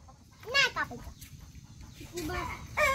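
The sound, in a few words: rooster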